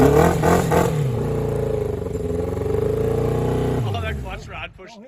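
An old motorcycle sold for parts runs on its own fuel, its engine chugging loudly and steadily with a low rumbling drone before cutting out near the end, while someone talks over it.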